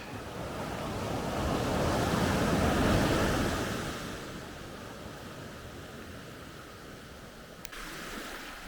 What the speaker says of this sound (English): I absolutely love the sound of the sea.